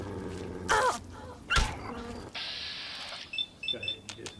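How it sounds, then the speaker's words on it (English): Hostile dog in Fallout 3 lets out two sharp, loud barks close by, followed by quieter in-game electronic chimes and tones. "So here comes the dog."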